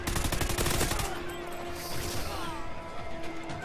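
Gunfire in the video game Call of Duty: Ghosts, a loud, rapid burst of automatic shots with cracking impacts that gives way to a lingering rumble and scattered in-game sounds.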